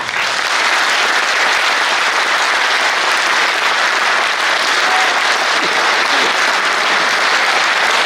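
Loud, sustained crowd applause at a Hindu rally in Varanasi, a thick continuous roar of many hands clapping that never lets up, close and full, with no speech over it.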